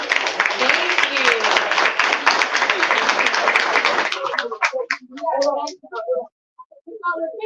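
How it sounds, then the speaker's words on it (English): An audience at a cannabis legislation day event applauds panelists, dense clapping for about four seconds that then thins into scattered claps as people begin talking. "let's give a round of applause for our lovely panelists"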